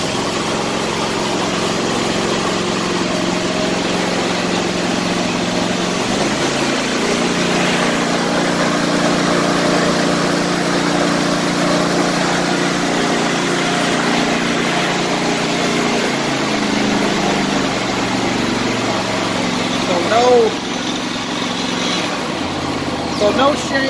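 Gravely ZT HD 52 zero-turn mower engine fitted with an anti-vibration kit runs steadily at half throttle, a close, even drone with a slight pitch shift partway through and a brief knock near the end.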